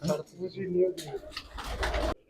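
Pigeons of a prized breed kept in a loft give soft, rounded coos through the first half, then a louder burst of rustling or fluttering near the end, with background activity around them.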